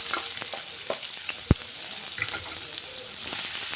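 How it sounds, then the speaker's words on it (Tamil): Sliced onion frying in hot oil for chicken Maggi, a steady close sizzle with occasional scraping stirs and one sharp knock, no talking. "ஆயில் ஹீட் ஆகிடுச்சு. இந்த டைமில் நான் ஒரு வெங்காயத்தை ஸ்லைஸாக சாப் பண்ணியிருக்கேன். இதை நான் ஆட் பண்ணிக்கிறேன்."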